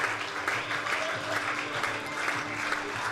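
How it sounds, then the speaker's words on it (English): Loud, sustained applause from a large stadium crowd at a T20 cricket match between Worcestershire Rapids and Somerset, a dense wash of clapping that stays steady throughout with a faint distant cheer mixed in. "And Adam Hose leads his troops off the field to thunderous applause from the Rapids faithful"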